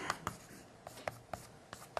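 Chalk or marker writing on a board during a mathematics lecture, heard as faint scattered taps and short scratchy strokes in a quiet room.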